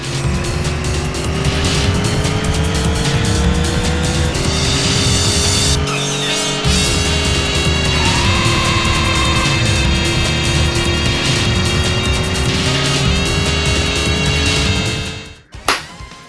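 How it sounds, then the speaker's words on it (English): Street racing video game cars howl at high revs with gear shifts and bursts of tire squeal and skidding, loud and continuous before cutting off near the end. "This is a street racing game definitely worth playing."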